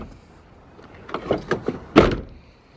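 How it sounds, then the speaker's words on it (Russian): A drift car's door being shut, a series of short knocks and clunks building to one louder slam near the end, close and distinct against quiet surroundings. "Вот так вот закрывается дверь."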